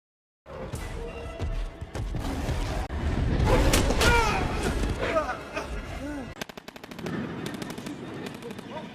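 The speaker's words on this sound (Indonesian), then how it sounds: "Hayes mencoba menembak mata Kong" Gunfire in a Kong adventure film: a dense stretch of rapid automatic shots and loud crackling bursts, with rapid-fire clicks near the end, mixed with film score and effects, while a narrator talks over it.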